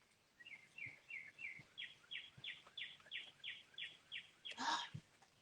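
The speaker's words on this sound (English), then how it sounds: "you can hear the birds in the background" Small birds sing in a garden during light rain, giving a quiet, steady series of about a dozen evenly spaced high chirps, with one louder, fuller call near the end, all faint and distant.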